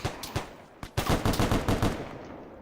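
Video-game gunfire in ARMA 3 during urban combat training: a few sharp separate shots, then a loud rapid automatic burst that keeps firing before fading, with no talking.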